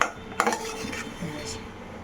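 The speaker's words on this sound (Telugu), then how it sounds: "సో ఇది దగ్గర పడేదాకా కలుపుతూనే ఉండాలి, లేకపోతే అడుగంటుతుంది." A spoon stirring and scraping sweet filling in a pan on a gas stove, with a few clinks of metal against the pan and soft scraping strokes at close range.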